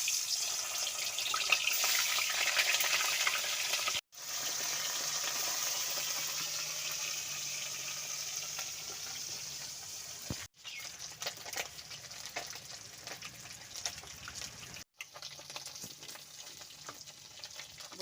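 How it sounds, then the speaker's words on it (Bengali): Bata fish fries in hot oil in a kitchen pan, giving a steady, close sizzle that runs on with only a few brief breaks. "বন্ধুরা, আমার তেলটা গরম হয়ে গেছে, এবার আমি মাছগুলো এক এক করে ভেজে নেব।"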